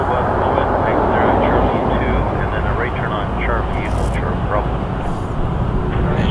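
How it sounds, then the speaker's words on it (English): Jet noise from a Porter Airlines plane bound for Edmonton at Toronto Pearson airport, a broad, steady roar heard at a distance with a voice talking over it. "What we're watching is a Porter flight to Edmonton"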